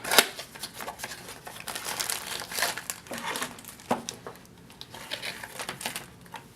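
An action camera accessory box being opened and a plastic bag handled, giving close, continuous crinkling and rustling with sharp cardboard and plastic crackles at irregular intervals.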